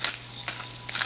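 A pepper grinder gives three quick, crisp ratcheting cranks, close and fairly quiet, twisting fresh pepper over a butternut squash and lentil curry, with a low steady hum beneath.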